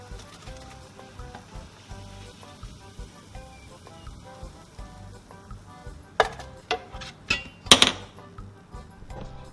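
Pholourie batter dropped into hot oil, a low steady sizzle with faint background music, then several sharp clinks and taps near the end as more spoonfuls go in.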